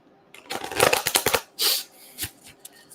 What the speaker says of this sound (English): I'm just shuffling decks right now